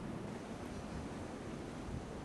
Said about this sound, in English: we are getting a fair bit of sea wind here